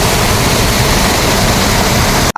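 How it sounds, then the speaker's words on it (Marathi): A waterfall near a dam in Kolhapur roars with spraying water, a loud, close, constant broadband rush that cuts off abruptly at the very end. "ह्या धबधब्याचं ते पाणी आणि कसं उडतंय बघा."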